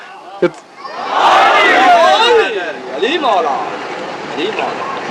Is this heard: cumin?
no